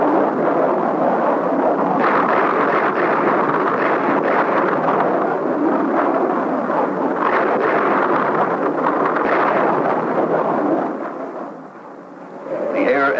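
B-52 bomb payloads striking at night near Khe Sanh in 1968 make a continuous, heavy roar of distant blasts and rumble, like thunder, dense and loud for most of the stretch before easing briefly near the end.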